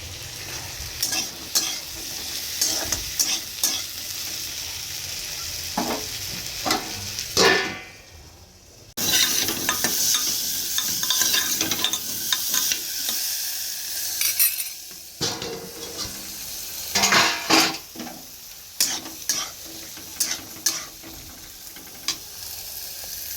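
Fish head frying with aubergine, potato, pointed gourd, pumpkin and Malabar spinach for Bengali chorchori, a continuous sizzle under repeated stirring with clanking spatula hits on the pan and a short pause midway.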